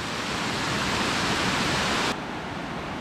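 A waterfall in the Olympic rain forest of Washington roars as a dense, loud wash of falling water, which drops off abruptly into a softer rush partway through.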